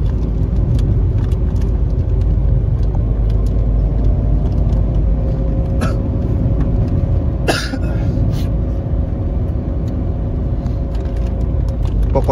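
A car drives along a road at night near Lake Toba, its steady low rumble filling the cabin throughout, with a couple of brief clicks and a short cough-like noise breaking the hum.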